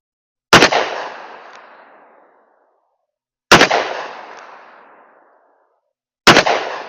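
A Taurus Model 66 revolver fires HSM .357 Cowboy Action loads, three loud, sharp shots spaced a few seconds apart, each followed by a long, fading echo.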